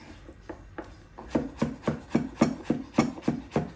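A knife chops onions into julienne battens on a cutting board, a steady run of about a dozen crisp, evenly spaced thuds, a few lighter cuts first and then firmer strokes, close up with no talking.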